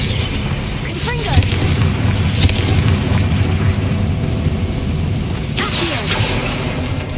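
A Confringo fire spell explodes in the Hogwarts Legacy video game, giving loud, dense booming blasts over a constant roar of game ambience, with a second burst near the end.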